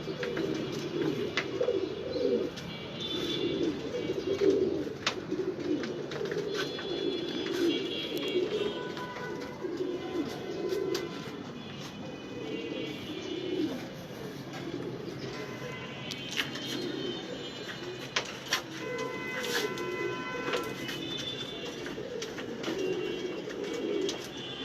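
Pigeons coo steadily in a loft, their soft, throaty calls rolling on continuously at close range with occasional small chirps and faint shuffling among the birds.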